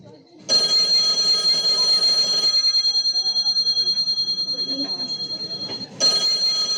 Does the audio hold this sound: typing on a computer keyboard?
no